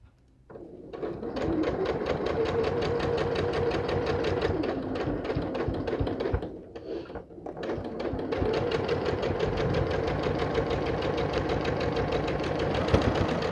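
A sewing machine stitching a quilt block seam for an Ohio Star block, running in a fast steady chatter, pausing briefly midway, then resuming at the same even pace, close and clear.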